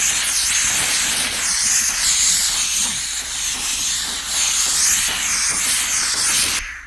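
A VEVOR steam cleaner hisses loudly and continuously as it steams a stain, a close, steady spray of steam that cuts off abruptly at the end.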